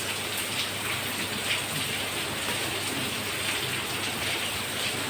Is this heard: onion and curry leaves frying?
no